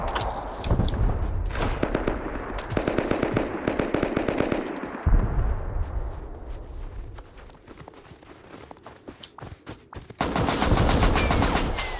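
Video game gunfire rattles in rapid automatic bursts, loud and close, with shorter volleys and thuds mixed with movement sounds, easing briefly before another dense burst of shooting near the end.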